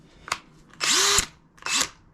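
A power drill fitted with a drill-bit-end blade sharpener grinds a lawn mower blade in three bursts: a short whir, a longer high-pitched grinding run, then a medium one, close and fairly loud.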